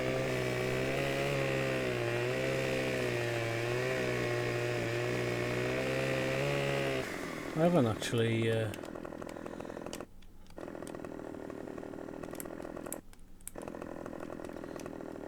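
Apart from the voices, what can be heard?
chainsaw cutting in the video game Farming Simulator 2015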